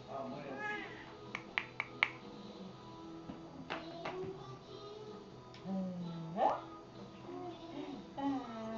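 A kitten gives several thin, rising meows amid household clatter and faint clicks, with people talking softly to it in between.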